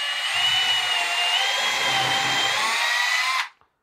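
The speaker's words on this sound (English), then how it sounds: "So I'll go ahead and just drill one." Power drill whining steadily as it bores a screw hole into a wood block for a miter joint, one continuous close run of about three and a half seconds that stops abruptly, no talking.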